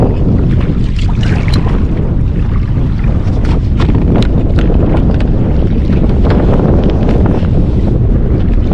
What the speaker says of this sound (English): there's that first wind, and you can see immediately the boat's pushing with the wind